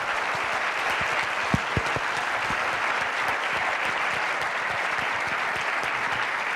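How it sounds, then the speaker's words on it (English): An audience at a University of Michigan School of Dentistry panel discussion applauds, a dense, steady wash of clapping that holds evenly throughout, with a few sharper individual claps close by. "Let's recognize this wonderful time with a very strong round of applause."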